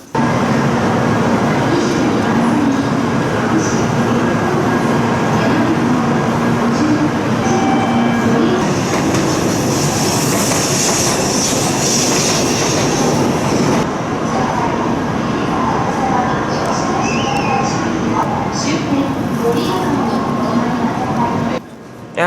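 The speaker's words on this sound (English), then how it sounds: "there's already a lot of train departing, and on average, there's train every 4 to 5 minutes" A Shinkansen bullet train rumbles continuously at a Japanese station platform, a steady roaring wash of rail noise with mechanical hum, announcement-like tones and distant voices throughout.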